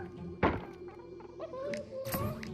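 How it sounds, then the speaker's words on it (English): In a Quest 3 mixed reality game, a creature smacks against a virtual wall, making a sharp thunk followed by several softer knocks and thuds, fairly close, with faint background tones. "It's trying to smack through the wall into my world."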